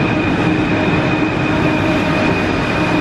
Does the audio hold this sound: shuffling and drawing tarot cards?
no